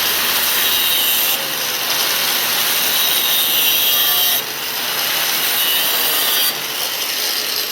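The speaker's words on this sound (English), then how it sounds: "So I'm gonna take my grinder, I'm gonna cut that and see if it makes room for it" An angle grinder cuts into the harmonic balancer ring of a 2013 Ford Edge 2.0: loud, continuous, close grinding hiss that shifts in tone a few times as pressure changes, with no talk.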